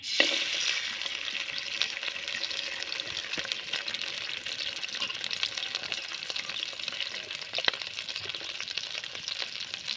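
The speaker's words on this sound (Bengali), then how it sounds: "কড়াইতে তেল দিয়ে দেবো" Oil sizzles steadily in a hot wok before crab is fried, a close, continuous crackling hiss with scattered small pops and occasional stirring clicks throughout.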